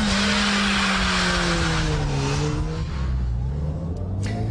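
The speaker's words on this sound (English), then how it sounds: "we're going on board a small family coupe" A Ford Puma small family coupe drives past with a loud, close engine drone whose pitch slides gradually down as it moves, under a broad rush of road and wind noise, with no talking.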